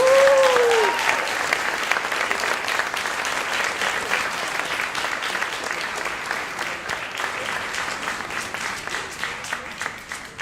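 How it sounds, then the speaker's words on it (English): Sustained applause from a gala audience fills the room, steady and dense throughout, with a brief cheer or whistle at the start before the clapping gradually tapers slightly. "So please give a round of applause for our 3 main speakers."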